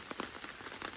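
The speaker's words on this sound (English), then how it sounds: "It could be rain." Rain falls on a campsite tarp as a steady close patter, with brief louder drops tapping through the constant hiss.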